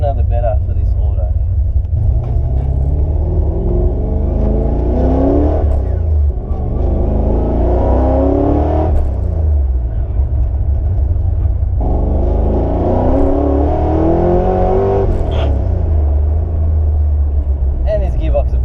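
A modified 1983 Ford XE Falcon engine revs hard while driving, its pitch climbing in two long surges with a brief drop between them. A loud, steady rumble continues close up throughout.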